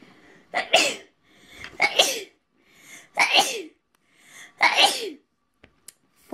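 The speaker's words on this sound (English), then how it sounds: "Oh, no. I'm going to sneeze." Four loud sneezes in quick succession, each with a sharp inhaled buildup, then quiet.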